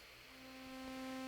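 A sawtooth wave from a modular synthesizer rack holds a steady sustained tone, buzzy and rich in stacked harmonics, rising slightly in level over its short span with no voices.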